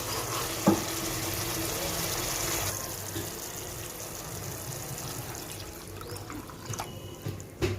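Water is poured into a cooking pan holding jackfruit kofta curry being cooked on low flame, a steady splashing pour near and continuous for several seconds with faint clatter near the end.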